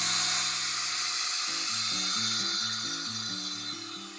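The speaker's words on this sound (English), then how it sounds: "I'm going to drill through the wood and then stop just as I make a dimple in the metal" A power drill bores through wood into metal, a continuous close, high buzzing whine whose pitch steps up and down irregularly as the bit bites, with no speech.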